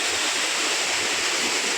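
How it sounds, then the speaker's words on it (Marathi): A waterfall at Vyaghreshwar in the Konkan pours down in a steady, dense rush of falling water, even and continuous, with no voices over it. "बघा पाणी बघा असला पडत आहे धबधब्याचा"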